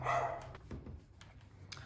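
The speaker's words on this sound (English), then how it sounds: "I hope you can't hear the dog." A dog barks and yips faintly in the background of a quiet indoor room, one short burst near the start followed by a few softer, scattered yelps.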